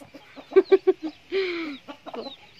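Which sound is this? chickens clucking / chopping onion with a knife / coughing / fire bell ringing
chickens clucking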